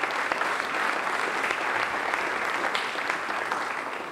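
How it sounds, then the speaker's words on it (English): A crowd at a track and field groundbreaking ceremony applauds steadily, a dense wash of clapping that holds for several seconds before beginning to fade slightly. "give them a much-deserved round of applause"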